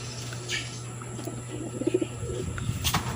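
Racing pigeons returning to their loft from a race coo softly in short throaty phrases against a steady hum and light background noise, fairly close.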